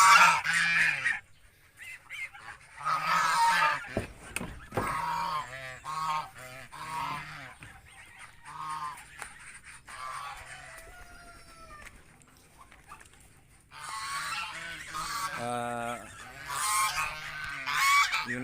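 Geese honk repeatedly among other farm fowl in a free-range poultry area, loud and overlapping calls with chicken clucks and a rooster crowing mixed in, no talking.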